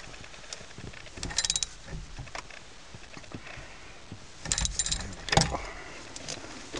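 A steering wheel being tightened into place on an FB Mazda RX-7 makes sparse metallic clicks and rattles, with two louder bursts of ratcheting and clanking close up over quiet background.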